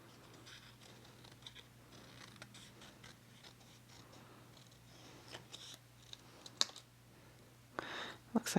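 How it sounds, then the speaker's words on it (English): Scissors cutting paper while decorating a cat-themed junk journal, giving quiet, irregular snips and clicks that come more often and grow louder toward the end, close by, with no talk over them. "I think I want to cut some of this away."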